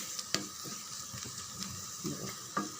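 Onions sauté in oil in a pan, a faint, steady sizzle broken by a few soft clicks and stirring taps, close and quiet with no voices.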